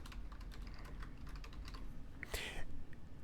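Keystrokes on a computer keyboard typing a note, a steady patter of soft clicks close by with a brief louder burst near the end, no voices.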